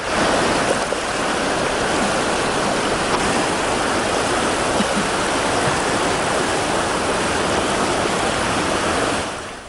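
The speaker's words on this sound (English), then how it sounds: "Angry waves destroying everything that came in its way." Roaring flash-flood waters of the Chenab River in Kishtwar, swollen after a cloudburst, rushing in a loud, continuous broadband torrent that fills the whole stretch with no pauses.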